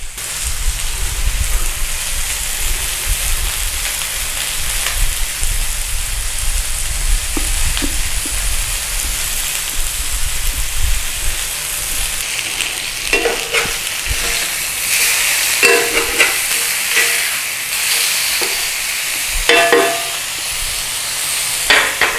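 Smashed cheeseburger patty sizzling loudly in a pan, a dense continuous frying hiss with crackles throughout, joined later by scraping and clanking of a utensil against the pan.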